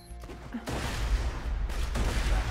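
Small gun firing in the video game Borderlands 2, a burst of rapid, loud shots that begins abruptly and holds as dense, sustained gunfire.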